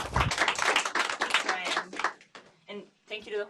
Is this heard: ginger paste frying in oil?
no